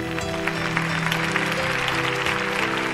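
Audience applause at a poetry evening held by a literary society, a dense, even clapping from a crowd that fills the whole stretch without pause.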